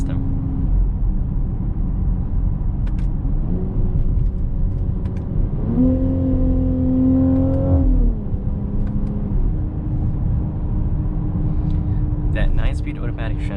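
A 2021 Mercedes-Benz GLC 43 AMG 4MATIC with a 9-speed automatic accelerating hard from inside the cabin, steady engine drone climbing in pitch through the gears with a rising rev around the middle, while a person talks over it.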